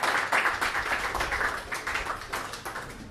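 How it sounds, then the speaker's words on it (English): Audience at an awards night clapping, a dense, steady patter of many hands that holds at moderate loudness and tapers slightly near the end, with no voices over it. "So a big round of applause to Jeremy for helping us get our officiating on."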